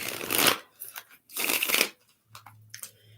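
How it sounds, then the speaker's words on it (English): A Law of Attraction tarot deck is shuffled in two strong, papery riffling bursts, close and fairly loud, followed by softer card handling and a low steady hum. "Let's get some shuffles on the deck."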